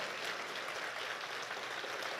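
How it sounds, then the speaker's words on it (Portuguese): A church congregation giving God a loud round of applause during a sermon, dense, even clapping sustained throughout like heavy rain, with no voices over it. "Dá para dar uma forte salva de palmas a esse Deus?"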